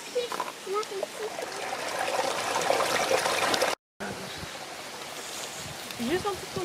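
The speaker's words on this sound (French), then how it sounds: "Lola, Ina et Ruby vont aller nettoyer la ravine du ruisseau." A stream flows through a ravine during a cleanup, giving a continuous soft trickling and splashing wash, with faint voices and clatter nearby and a brief cut midway.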